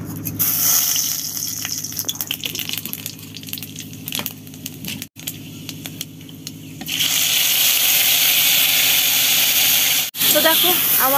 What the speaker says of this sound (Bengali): এই যে দেখো জল দেওয়ার পর এরকম হয়েছে, এখনো সিদ্ধ হয়নি